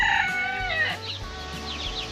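Broody hen clucking and chattering in short bursts, close by, with some farmyard background noise and no talking.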